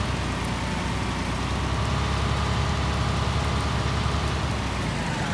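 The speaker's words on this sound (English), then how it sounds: "and it's raining again" Steady rain pours down across a farm in the Farm Simulator video game, a dense, continuous hiss of drops on surfaces with a faint low hum beneath and no voices.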